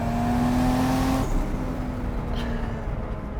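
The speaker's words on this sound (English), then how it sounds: "about Supras is the turbo spool, the noises, it's the drama" A turbocharged Toyota Supra with a 2JZ engine revs hard with a rising turbo whine, then the tone drops as the revs fall off, loud and close.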